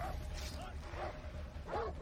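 Dogs in the video game Far Cry 3 give several yipping barks and whines in quick succession, under loud game noise and a person's voice.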